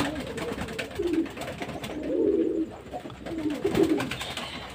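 Domestic pigeons kept at a home loft coo in low, rolling bursts that repeat every second or so against a steady background hiss, close and moderately loud.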